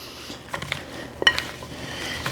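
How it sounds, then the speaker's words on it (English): A spoon scraping and clinking against a pot while pecans are stirred into melted chocolate, soft irregular taps and scrapes at close range with one sharper metallic clink. "we're just going to keep stirring till we get it nice and thick"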